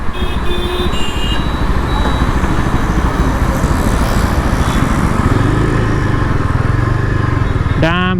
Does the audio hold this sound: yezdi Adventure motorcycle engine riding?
yes